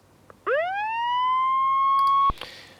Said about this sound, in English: Now I searched for siren, and I did find a siren, I think.